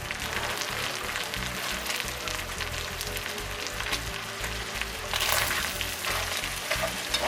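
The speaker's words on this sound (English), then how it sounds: "So I'm gonna let them onions cook and let them get translucent." Onions fry in a pot for dirty rice, a dense crackling sizzle broken by repeated scraping stirs against the bottom, fairly loud and close with no talking.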